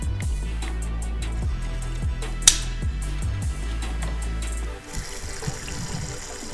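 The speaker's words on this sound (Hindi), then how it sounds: "मैं कुछ पानी की धारा सुन सकता हूं।" Water streams inside a transparent homemade dishwasher, a steady low rushing with faint clicks and one sharp tick, quieter and more splashy toward the end, no talking.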